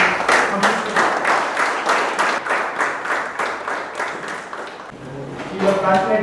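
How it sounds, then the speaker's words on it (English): Audience applause at a live session, a steady wash of many hands clapping that runs for several seconds, with talk heard over it at the start and again near the end. "Please join me in hands with a big round of applause"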